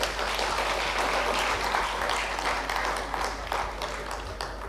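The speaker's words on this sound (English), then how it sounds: "let's have a huge, huge, huge round of applause for the children" An audience at a sustainability education conference opening ceremony applauds children on stage, a dense continuous burst of clapping filling the room for a few seconds with a low hum underneath.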